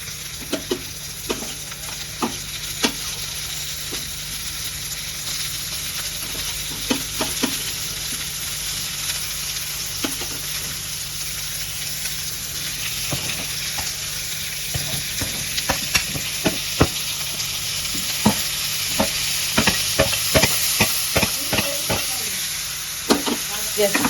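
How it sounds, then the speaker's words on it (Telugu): Tomatoes fry in a hot pan for a tomato bread pulao, with a steady sizzle throughout and repeated sharp scrapes and clicks from a spoon stirring them. "సో ఇప్పుడైతే టమోటాలు వేసేసుకోండి."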